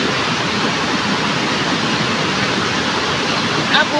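Steady broadband rush of river water flowing near a riverside cottage, a continuous dense wash with no breaks, loud and close throughout the clip.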